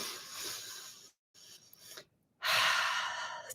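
Slow, deep breaths drawn in and let out calmly during a guided stress-release meditation, with airy inhales and exhales separated by a short silent pause, close and clear with no talking.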